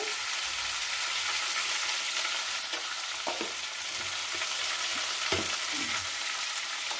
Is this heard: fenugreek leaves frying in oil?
yes